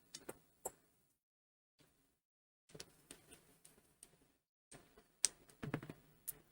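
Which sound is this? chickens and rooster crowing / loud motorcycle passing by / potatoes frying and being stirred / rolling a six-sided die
rolling a six-sided die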